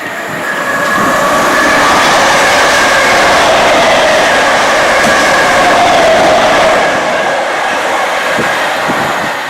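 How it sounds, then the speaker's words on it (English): A fast train passes close by on a London railway line with a loud, sustained roar of wheels on rails, faint squeals and rhythmic clatter, fading slightly at the end, with no talk. "I knew there was a fast train coming."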